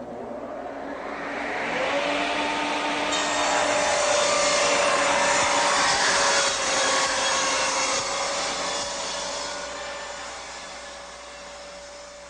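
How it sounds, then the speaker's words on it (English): A table saw cuts wood for a bookcase, its loud whine swelling as the blade passes through the board, holding steady, then easing off; no one speaks. "I've got the table saw set up here at exactly 3 inches from between the blade and the fence."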